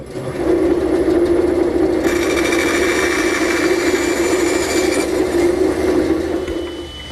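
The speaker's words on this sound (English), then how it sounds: "I've set up a temporary fence here at my bandsaw, and I'll run the piece in until I meet the previous cut" Bandsaw cutting a pine workpiece, a loud steady whirring drone with a brief shift in tone partway through as the blade works the wood, heard alone and close.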